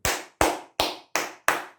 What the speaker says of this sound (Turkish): Hemen ben de şimdi duruyorum ve alkışlıyorum.